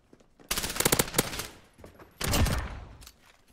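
Automatic gunfire in a first-person shooter video game: two loud, rapid bursts of shots, the first stuttering for about a second and the second shorter and heavier, then fading out.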